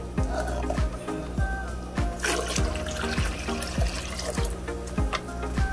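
Water being poured out of a betta fish display tank, a steady splashing trickle with repeated gurgling pulses and a constant low hum beneath.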